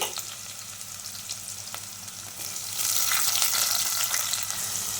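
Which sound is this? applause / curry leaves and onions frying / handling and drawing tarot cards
curry leaves and onions frying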